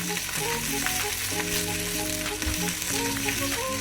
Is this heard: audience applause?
no